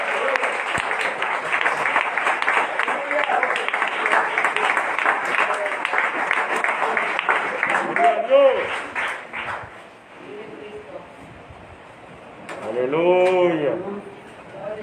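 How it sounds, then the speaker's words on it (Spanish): Congregation applauding in a church service, dense sustained clapping for about ten seconds that then fades, followed by a preacher's voice talking with rising, sung-like intonation. "Dile un aplauso al Señor."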